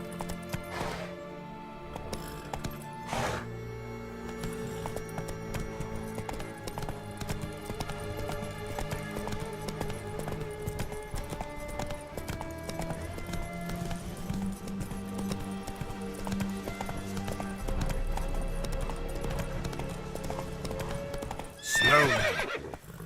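In The Witcher 3: Wild Hunt, a horse's steady clip-clop gallop runs continuously under game music, with a whinny and a louder burst near the end and no talking.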